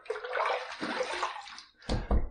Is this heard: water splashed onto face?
yes